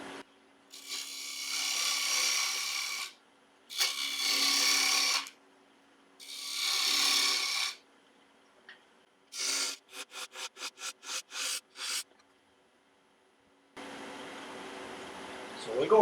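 A wood lathe spins at about 2000 RPM as a 3/8 inch bowl gouge cuts a wooden coaster, several long raspy cutting passes separated by pauses, then a run of short rapid strokes, with a quieter hum near the end.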